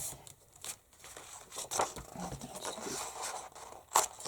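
Scissors cut through an index or record card to make a flap for a journaling pocket, giving close scratchy scraping and crinkling paper sounds in uneven strokes.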